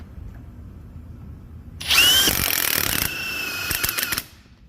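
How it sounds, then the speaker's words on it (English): An impact wrench drives a 13 mm Olsa Tools swivel socket onto a bolt, after a quiet pause a loud rattling hammering burst of about two seconds that steps down in pitch partway through, close and alone. "Next we're gonna test the 13 mil impact."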